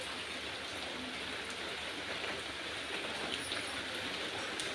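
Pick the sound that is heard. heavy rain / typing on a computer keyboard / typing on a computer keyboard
heavy rain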